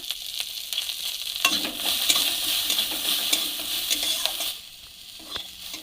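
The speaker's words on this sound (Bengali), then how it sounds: "সাদা জিরা ফোড়ন দিলাম রসুন কুচি আদা কুচি পেঁয়াজ কুচি কাঁচা লঙ্কা কুচি" Cumin seeds, chopped garlic, ginger, onion and green chilli fry in a little oil, crackling and sizzling up close while a spatula stirs with light clinks, the sound easing toward the end.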